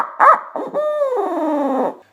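With cupped hands opened up, a person blows out a mimicked owl laugh call: a short burst of hoots followed by a long, descending, wavering tone, loud and close.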